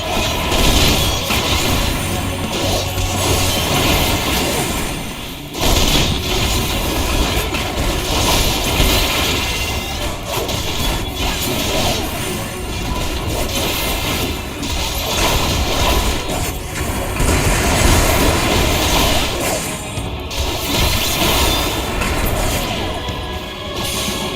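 Dense, continuous rumbling and clattering of train carriages in Final Fantasy XIV: Endwalker, loud throughout with mechanical crashes and booms layered over steady noise.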